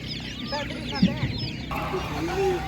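Laying hens for sale at an outdoor animal market cluck in short bursts among crowd noise and a few distant voices.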